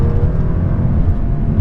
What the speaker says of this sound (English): Hear the engine rev up a bit.